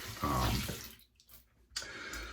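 Warm water splashes from a bathroom sink during a shave, two short bursts of running, splashing water separated by a quiet pause.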